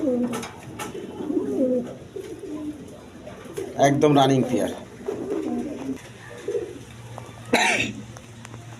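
Pigeons coo repeatedly at a pigeon seller's stock, their low throaty calls running beneath someone talking throughout, with a brief cough-like sound near the end.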